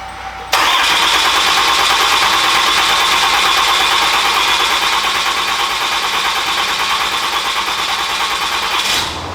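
A RAM 2500 with the 6.7L Cummins diesel cranks and fires, jumping straight into a loud, steady clattering idle that holds evenly before cutting off near the end, close by and with no talk.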